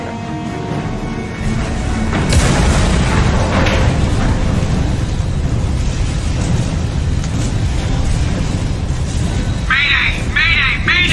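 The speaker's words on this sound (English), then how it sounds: "First thing that happens right away is your ship is destroyed" The spaceship Normandy being destroyed in Mass Effect 2, a loud rumbling explosion that swells after a quiet start and keeps booming, with sharp alarm-like chirps near the end.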